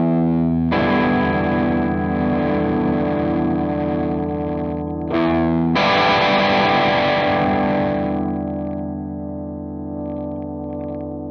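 Great Eastern FX Focus Fuzz pedal with the focus control turned up, an electric guitar strumming a sustained E minor 7 chord twice, thick fuzzy distortion ringing out loud and alone before slowly fading.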